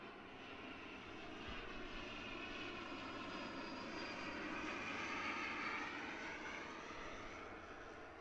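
A propeller aircraft engine drones at Christchurch Airport, a steady, distant hum that swells slightly in the middle of the clip and then eases off.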